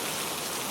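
Gentle rain falls steadily in an even, close wash of drops with no other sounds.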